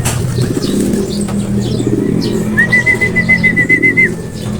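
Racing pigeons coo and flap their wings as they land, a busy, close flock with steady murmuring coos, bursts of wing beats and a high whistle-like tone partway through.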